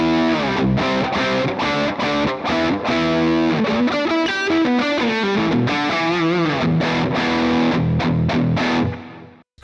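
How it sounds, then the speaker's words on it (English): Gibson Les Paul electric guitar on the neck pickup through heavy distortion with a chorus-like effect, playing chugging chords and a busy lead run before a final ringing chord cut short, loud and close, no talking. "Let me go and grab the Les Paul and I'll stick it in the neck position."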